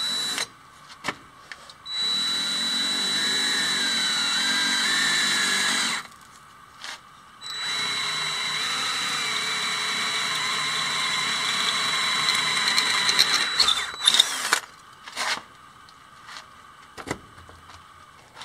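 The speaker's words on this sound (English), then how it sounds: "Need to make sure I don't drill into my solar panels when I start drilling the frame." An electric power drill bores into the metal frame holding a solar panel, running in two sustained bursts of whining at close range, with short clicks and handling knocks between them and a fading rattle at the end.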